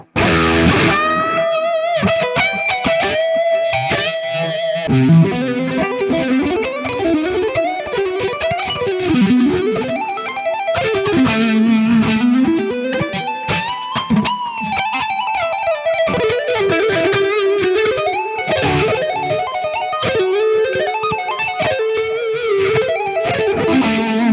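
A high-gain, heavily distorted electric guitar plays a continuous riff through an FRFR speaker, with sustained, saturated notes and bends, loud and up close with no talking.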